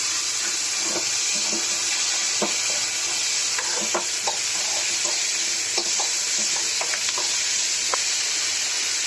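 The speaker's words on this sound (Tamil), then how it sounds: "சட்னிக்கு தேவையான உப்பு போட்டு இதிலே வதக்கிடலாம்" Carrots sauté with salt in a pan for carrot chutney, giving a continuous close sizzle broken by frequent spatula scrapes and taps, with no one talking.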